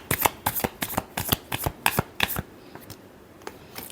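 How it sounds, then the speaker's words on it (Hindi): Playing cards are shuffled in a rapid run of crisp riffling flutters and slaps, close and clear, tapering into a few sparse taps at the end. "Last shuffle."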